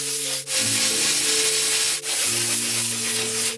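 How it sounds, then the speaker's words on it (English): A household steam cleaner works over the fabric of a Mazda Miata car seat, giving a close, continuous hissing rush with a low tonal hum beneath and two brief breaks in the spray. "let's go ahead and steam clean this. This is a household steam cleaner."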